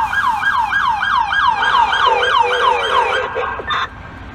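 An FDNY fly car answering a high-rise fire call on East 50th Street, its siren wailing in rapid repeating whoops, loud and close over street noise before it cuts off abruptly near the end.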